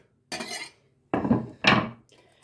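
Cheese and green onion filling for Odesa-style spring pies being mixed in a bowl, heard as three separate scraping, clinking strokes of a utensil with short silences between them, close and alone.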